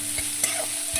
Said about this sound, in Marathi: 2 मिनिट शिमला मिरची परतून घेऊ।